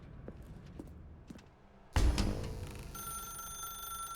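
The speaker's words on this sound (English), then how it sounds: "Now pick up the phone." An old-style telephone bell rings in The Stanley Parable: Ultra Deluxe. A few soft footsteps come first, then a loud, sustained ringing sets in and continues.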